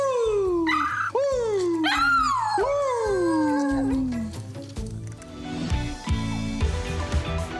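A dog lets out several long, loud, wavering howls that slide downward in pitch, close by, then trails off into quieter whimpering and background noise.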